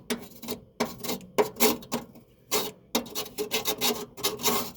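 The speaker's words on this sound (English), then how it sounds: "I'm gonna make sure we get this little old seal off of here" Old gasket seal being scraped off a Payne furnace inducer motor, a run of short, rough rasping strokes in quick uneven bursts, close and fairly loud with brief pauses between.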